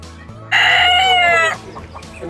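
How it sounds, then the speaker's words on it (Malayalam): A rooster crows loudly once at a farm and pet sale in Ireland, a single long clear call that stands out close by over quiet background noise. "ഒരു കോഴി കൂന്ന സൗണ്ട് കേട്ടോ,"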